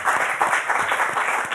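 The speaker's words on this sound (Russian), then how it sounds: "Еще раз аплодисменты нашему зрителю." A studio audience at an evening talk show in Gomel applauds with dense, lively clapping that stays fairly loud and even through the short burst, with no talking over it.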